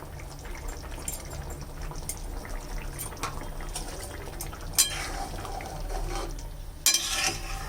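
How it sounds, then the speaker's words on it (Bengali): Ghee sizzles and crackles steadily in a pan of green jackfruit curry, a soft continuous frying hiss with a couple of sharper clatters near the end, and no talking. "এখন একটু ঘি দিয়ে দেব।"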